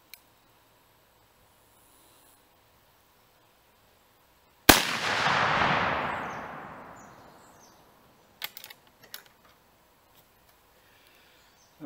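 A single sharp rifle shot from a brush-cartridge rifle fired on an outdoor range, loud and sudden, followed by a long rolling echo that fades over several seconds, with a few faint clicks afterward.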